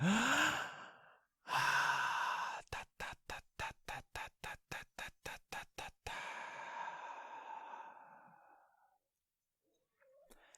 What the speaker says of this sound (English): you can do this breathing without the voice as well